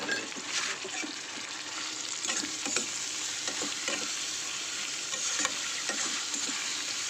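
Spices such as chilli powder, turmeric and ginger-garlic paste sizzle in a pan for chicken curry, a steady close frying hiss broken by scraping stirs of a spatula.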